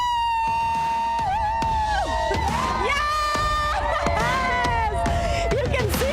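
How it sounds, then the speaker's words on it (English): Excited spectators lining both sides of a marathon street cheer and shout with whistles and high calls, a busy crowd roar close by, mixed with children's voices and scattered chatter. "We have cheering from both sides of the street."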